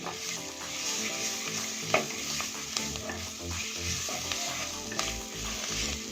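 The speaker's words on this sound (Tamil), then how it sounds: "இதை நீங்கள் இந்த மாதிரி நல்லா வதக்கிட்டு" Balloon vine leaves (mudakkathan keerai) sauté in a pan with a continuous close sizzle, while a spoon scrapes and stirs now and then.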